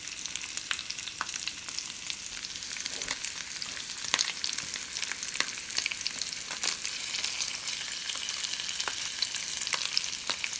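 Fish fillets fry Kerala style in coconut oil with curry leaves, a soft, continuous hiss and fine crackle at low, even loudness with occasional sharper pops and no voices.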